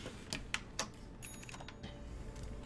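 Quiet clicking of keys on a computer keyboard, a few separate taps against a low, steady background hum with no voices.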